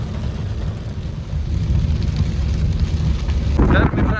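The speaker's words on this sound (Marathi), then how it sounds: "इतक्या जोरदार पाऊस आहे ना हे बघा हवा वगैरे" Loud, roaring rain mixed with gusting wind in Nagpur, a thick continuous rush that swells toward the end with sharper splashing.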